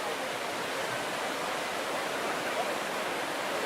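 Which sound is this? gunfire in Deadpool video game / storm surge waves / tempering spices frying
storm surge waves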